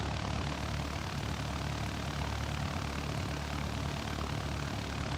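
A propeller airplane taxis in at a Dominican Republic airport in Microsoft Flight Simulator 2020, its engine a steady, close, continuous drone with no talk over it.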